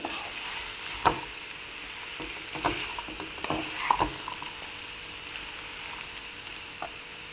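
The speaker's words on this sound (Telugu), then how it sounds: "ఇప్పుడు మనం కట్ చేసి పెట్టుకున్న సొరకాయ ముక్కల్ని దీంట్లో యాడ్ చేసుకోవాలి. ఫ్రై చేసుకోవాలి." Bottle gourd pieces fry in a hot pan with a constant close sizzle, while spoon-against-pan scrapes and knocks land irregularly throughout, and no one talks.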